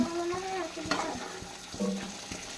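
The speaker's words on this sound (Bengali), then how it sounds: "এই যে ঝোলটা শুকিয়ে যাচ্ছে, এই যে রান্না করবো, এই যে মাছের ঝোল করবো" A fish curry with potatoes cooks in a pan, with a soft sizzle beneath intermittent scraping and clinking of a stirring utensil, all close by with no talking.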